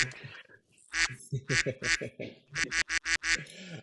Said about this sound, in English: we've reached a critical mass of ducks.